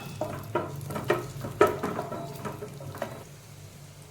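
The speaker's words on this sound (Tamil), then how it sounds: "இதுல நம்ம தேவையான அளவு முந்திரி பருப்பு மற்றும் உலர் திராட்சையை லைட்டா நம்ம வறுத்தெடுத்துக்கலாம்" Cashews and raisins fry lightly in ghee for rava phirni, a steady soft sizzle punctuated by regular scraping stirs of the pan, ending with a small clink.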